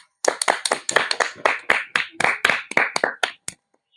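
About fourteen sharp hand claps in a quick, fairly even rhythm, close and clear, followed by silence.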